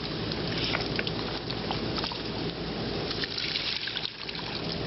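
Water swishes and trickles inside an old glass bottle as copper wire pieces are rinsed out, a steady close wash of water noise with faint rattling and no voices.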